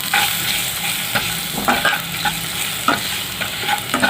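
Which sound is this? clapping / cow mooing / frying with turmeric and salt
frying with turmeric and salt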